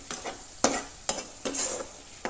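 Onions frying in a pan for chicken roast sizzle up close while a spoon stirs them in several quick scraping strokes at an irregular rhythm.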